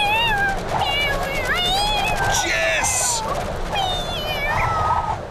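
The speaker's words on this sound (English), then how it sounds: "Meow. Meow." A cartoon cat meows several times in a rising, wavering voice, mixed with voices and background noise in an animated children's show.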